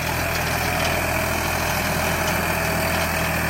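A Solis RX50 tractor disks wheat stubble in a field, its engine a steady, loud, continuous low drone with a constant vibration running unbroken throughout, no voices.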